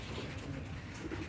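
Pigeons coo softly at a home in Bikrampur where a pair of breeding pigeons sit with eggs and chicks, low rolling murmurs repeating steadily against a faint, noisy background.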